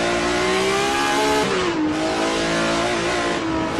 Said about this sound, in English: Let's ride with Becky Ellie Clark at the number 51 BMW M1 Group 5